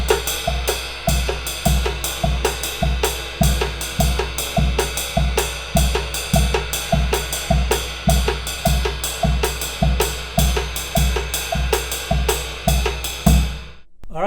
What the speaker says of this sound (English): we're going to add bass drum on the quarter note pulse.